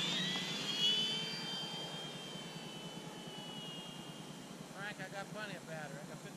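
An FMS F4U Corsair model airplane takes off, its electric motor giving a steady whirring drone that fades as it climbs. Voices talk faintly near the end.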